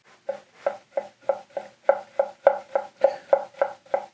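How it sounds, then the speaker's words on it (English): A gyuto knife rock-chops a sweet potato up close. About a dozen crisp, even strikes land in a steady rhythm of roughly three per second, each one clear against near silence, with no speech. "A little rock chopping."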